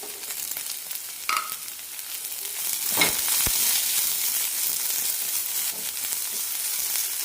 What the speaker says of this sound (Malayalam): ഒരു മിനിറ്റ് നന്നായി വഴറ്റി കൊടുക്കണം അരിഞ്ഞു വെച്ച സവാള ഇടാം